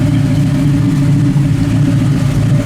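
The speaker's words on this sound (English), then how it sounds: "You want to rev it up from the outside so they can hear it a little" The engine of a 1971 Nova SS rumbles steadily with a deep, loud, even tone, heard close from outside the car with no talking.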